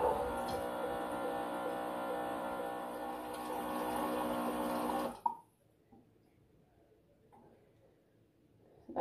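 A USB-charged pump tap fitted to a camper-van water container runs with a steady, loud motorized whir, pumping water into a kettle for about five seconds, then cuts off, leaving near silence with a couple of faint clicks.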